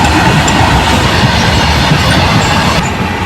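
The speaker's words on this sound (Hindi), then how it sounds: "लो जी ओवरटेक करके निकल गया गुड्स ट्रेन।" A goods train rolls past and overtakes a passenger train, its steady loud rumble of wheels and wagons filling the whole stretch with faint clickety-clack, heard close from on board.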